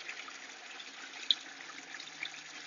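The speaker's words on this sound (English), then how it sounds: "I have a drain that goes off the bottom, and I just purge off about 5 gallons off the bottom of the filter, just like this." Water purged from the bottom drain of an aquaponics filter, a steady rushing gush with a faint splash, continuous and fairly close, no talk.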